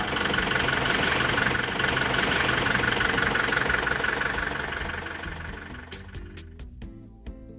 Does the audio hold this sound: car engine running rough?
yes